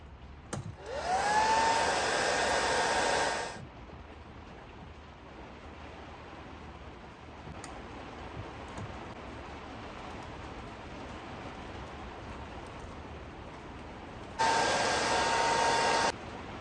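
A heat torch blows a steady hiss across vinyl applied to a 3D print, loud and continuous for about three seconds, then cut off to quiet background before a second short burst near the end.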